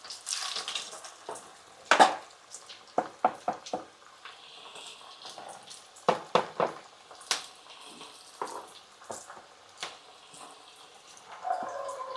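Potato pieces frying in oil, giving a steady soft sizzle with a string of sharp pops and crackles, some near and loud, spread through the clip without any voices.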